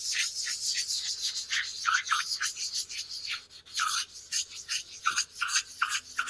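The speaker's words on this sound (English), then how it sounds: "I'll see if I can pick anything up on it with the slipstone" A slipstone is rubbed back and forth over a metal cutter grinder part, giving a close, dry, rasping scrape in quick repeated strokes with short pauses.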